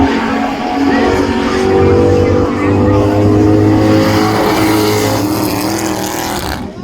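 Cars race loudly at a spectator drag event, engines droning and revving close by in a sustained roar, with a voice commenting over the noise.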